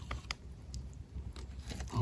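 Someone biting into and chewing a crunchy wild white mushroom outdoors, several close crisp crunches in quick irregular succession, alone without talk.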